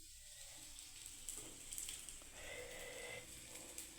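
A potato tikki sizzles in a pan with very little oil, a soft, steady frying hiss that stays quiet and close, with a few faint stirring noises.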